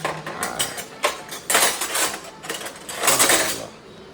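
Pasta being stirred in a pot of boiling water with a little oil added, during a home cooking party: a run of clinking, scraping strokes against the pot, moderately close, with no talk.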